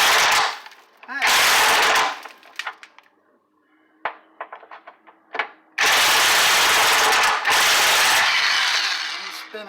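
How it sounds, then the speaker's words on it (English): An impact wrench loosens the shock bolts on a 1979 C3 Corvette in long, loud, close hammering bursts, with short ratchet clicks and clinks between them. "We might have to take the old impact to that one"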